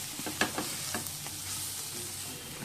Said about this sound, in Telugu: కొద్దిగా ఉప్పు, కొద్దిగా కారం ఇలా వేసి కలుపుకున్న తర్వాత మొత్తం అంతా మిక్స్ చేసేసుకోవాలి.